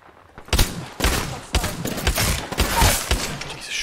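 Gunfire in the Apex Legends battle royale shooter: a series of loud, close shotgun-like blasts at roughly half-second intervals, each with a sharp attack and a rumbling tail, no speech.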